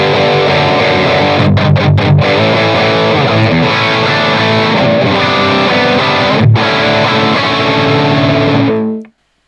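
Heavily distorted metal guitar played through the Audio Assault Crown amp simulator set to EL34 power tubes. Dense, loud chugging riffs with a few short stop-gaps, then the sound cuts off sharply at the end.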